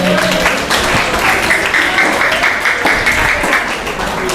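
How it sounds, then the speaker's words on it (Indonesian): A group of children and adults clap together during an Islamic religious lesson, a loud dense wash of applause that holds steady for several seconds with faint voices underneath. "tepuk tangan untuk kita semuanya"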